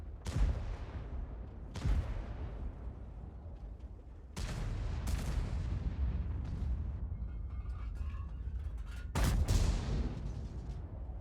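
Heavy tank cannon shots from a VK 45.02 B in the World of Tanks game, four loud booming blasts, each one rumbling and decaying slowly, over a constant low battle drone.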